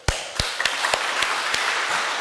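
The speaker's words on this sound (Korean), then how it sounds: "뜨거운 박수로 우리 모두 자축합시다" A crowd at a Korean community center reopening ceremony in San Francisco bursts into applause, a dense wash of clapping that holds steady throughout, with a few sharper claps standing out.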